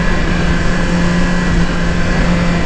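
A 2018 Suzuki GSX-R1000 sport motorcycle drops a gear and its engine hums at a steady, loud, close pitch for a few seconds, with no voices over it.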